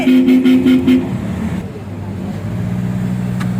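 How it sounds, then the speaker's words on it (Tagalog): A Honda Accord's horn sounds in a quick series of short toots, then gives way to steady road and engine noise. "Busina, busina, Je!"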